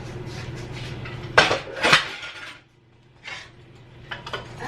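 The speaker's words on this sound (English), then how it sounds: "Let me just change the pot because I'm gonna change the pot" Cooking pots handled and swapped in a home kitchen, two sharp metallic clanks of pot and lid close by, followed by softer bumps and rattles with quiet gaps between.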